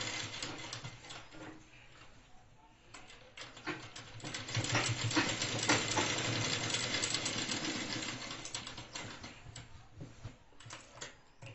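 A sewing machine stitches a chudidar top at the shoulder, a steady mechanical whir with fine ticking that rises and falls in speed over about eleven seconds, with no talking.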